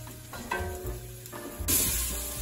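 Onions and garlic frying in a pan while being stirred, a close steady sizzle with scraping stirs and a louder hiss toward the end, no talk.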